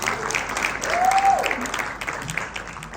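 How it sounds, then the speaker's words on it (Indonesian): A church congregation applauds the worship team and tambourine players during a service, with a moderate, sustained wash of clapping and a faint voice briefly audible underneath. "Boleh kasih tepuk tangan dong buat teman-teman yang sudah melayani dengan baik."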